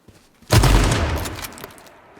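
Gunfire in the online survival shooter H1Z1: a sudden loud burst of rapid overlapping shots that starts abruptly and fades over about a second and a half, with no talking.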